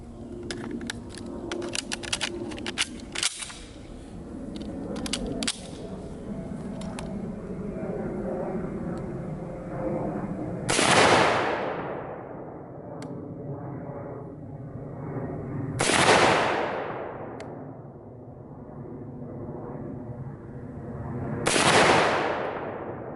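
Three loud, sharp rifle shots from an M1 Garand fired outdoors, spaced about five seconds apart. Each shot has a long echoing decay, and there is steady background noise and handling sounds between them.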